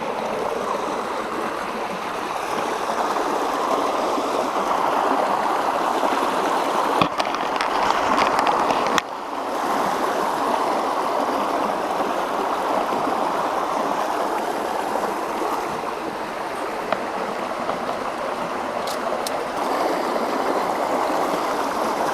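River rapids rush in a loud, continuous roar close by, a steady broadband wash of flowing water with a brief splash and some handling knocks midway.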